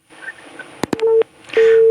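After a phone call on a radio call-in programme drops, a telephone busy tone comes through the line in two steady beeps, preceded by a few clicks and faint line noise.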